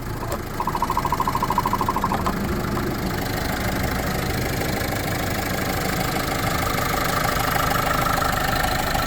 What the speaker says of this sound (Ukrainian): Чиста робота двигуна, ніяких нарікань немає.